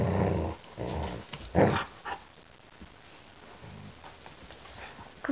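A puppy growls in rough, rumbling bursts while playing tug, with short gaps and scuffling between them, close by and fairly loud.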